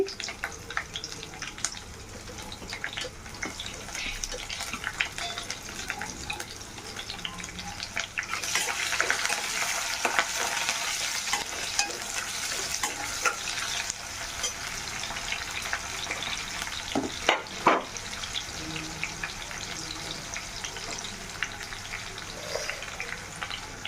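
Onion, carrot and green chilli hit hot oil with whole garam masala in a pan for vegetable biryani, giving a soft continuous sizzle that swells midway with some stirring, fairly quiet.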